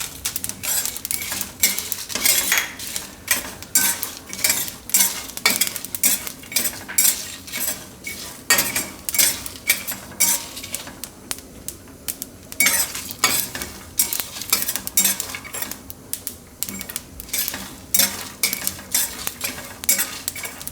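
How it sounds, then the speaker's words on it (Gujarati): Chilies sizzling in a hot pan for Gujarati green bean curry while a metal spoon stirs and scrapes in quick repeated strokes, a close, busy clatter over the steady fry. "હવે આપણે મરચાં નાખી દઈશું."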